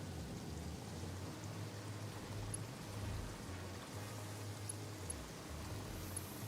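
Steady rain weather effect in the Satisfactory factory-building game, a soft continuous hiss with faint drops spread evenly throughout, no talking over it.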